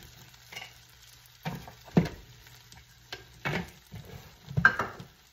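Oats for homemade granola stirred in a bowl or pan, a few soft scraping and rustling strokes in separate bursts, close and fairly quiet.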